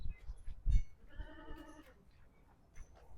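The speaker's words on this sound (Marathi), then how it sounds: "या बघा मित्रांनो शेळ्या, हिला म्हणतात क्वालिटी." A goat on a seller's farm lets out one clear, wavering bleat at moderate distance, with a thump before it and faint rustling and distant sounds around, no talk.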